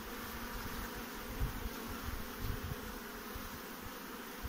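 Dense buzzing of many honeybees in an open hive at close range, a continuous droning hum with no voices.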